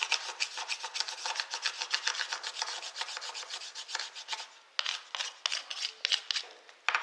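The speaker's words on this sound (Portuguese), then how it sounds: "Você vai raspar e tirar essa parte que contém o verniz." Knife blade held perpendicular scraping varnish off a fire-starting material, a dense rhythm of close, dry rasping strokes, steady at first and then broken into separate scrapes toward the end, with no talking.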